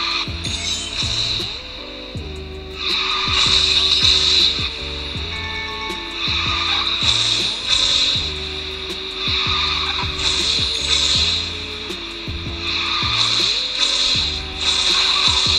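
Racing car drifting in the mobile game Garena Speed Drifters, a steady engine drone with repeated bursts of loud tire squeal and skidding, stepped gear-like tones and game effects throughout, no talk.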